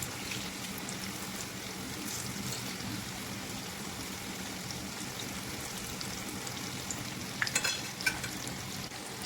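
Tofu pieces frying in a pan until golden brown on all sides, a steady dense sizzle of hot oil throughout with a few sharper crackles and pops near the end, no voices.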